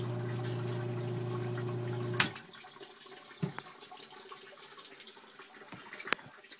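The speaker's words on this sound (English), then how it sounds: "That's the water rushing in from the weeping thaws." Thaw water rushes into a sump pit from weeping tiles during spring thaw in high-water-table clay ground; a steady pouring gush is heard up close, then it cuts off, leaving a quieter trickle with a few knocks.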